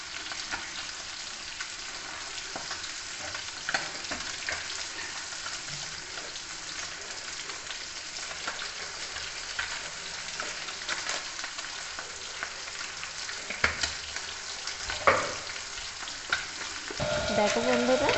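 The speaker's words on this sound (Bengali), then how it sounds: "মাছটা খালি ভাজছি।" Fish fries in hot oil in a pan, a continuous crackling sizzle heard close up, with a few louder pops and a scraping stir near the end.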